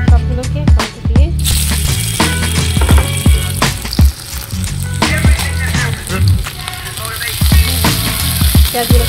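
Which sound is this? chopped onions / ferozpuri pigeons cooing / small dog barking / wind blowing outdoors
chopped onions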